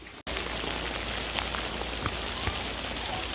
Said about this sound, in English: The rain is coming back.